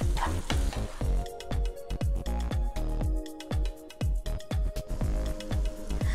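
Chopped tomatoes sizzle and fry steadily in a pan over medium-high heat, with repeated scraping stirs of a utensil giving a regular clattering rhythm close by, no talking.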